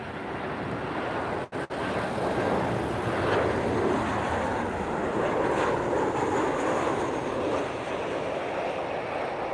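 An Air Europa airliner at Lisbon Airport on a windy evening, a continuous rumbling jet roar that swells gently and stays broad and steady, with a couple of brief dropouts early on.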